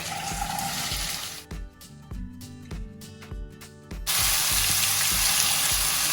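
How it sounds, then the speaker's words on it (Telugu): Potatoes drop into a pan of frying garlic and curry leaves: a hiss of sizzling oil, a sudden quieter stretch with thuds and clatter as the pieces go in, then a loud, steady sizzle. "కొద్దిగా వెల్లుల్లి వేగిన తర్వాత ఇప్పుడు ఆలు వేసేస్తున్నాం"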